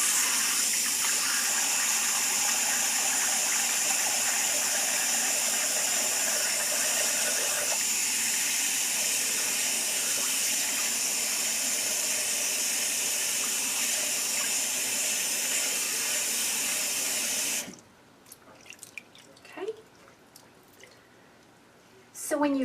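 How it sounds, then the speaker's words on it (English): A sink fills with clean, cool water from a running tap for a wig's final rinse, a steady close gush that stops abruptly near the end, leaving faint drips and small handling sounds. "And then I fill the sink again with clean, cool water, and I'll just give it a quick dunk."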